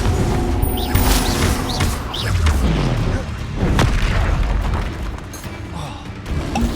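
Confringo spell blasts from the Hogwarts Legacy video game go off as repeated booming explosions with crashing impacts, loud and close, layered over game sounds and effects.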